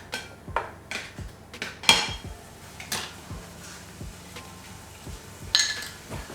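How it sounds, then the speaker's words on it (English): Onions being stirred in a pan, a series of irregular metallic clinks and scrapes from a utensil against the cookware, close and distinct, with no voices. "let's heat a bit more the pan with the onions so we can give it a small stir"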